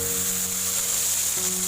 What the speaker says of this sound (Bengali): তেল গরম হলে শুকনো লঙ্কা দিয়ে বাটাটা দিয়ে দেবো।